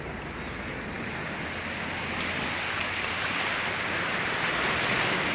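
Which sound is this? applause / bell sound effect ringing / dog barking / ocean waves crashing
ocean waves crashing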